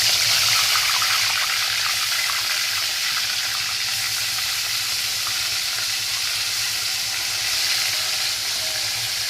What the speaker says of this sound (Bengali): এখানে মাছগুলো ভাজা হচ্ছে, দেখতেই পাচ্ছ তোমরা বন্ধুরা